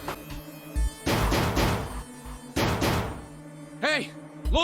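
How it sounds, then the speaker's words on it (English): Pounding on a frozen door in the video game 999 comes as heavy knocks and thuds in bursts, loud and close, with brief electronic chirps between them. "Santa shoved Junpei aside and pounded against the door."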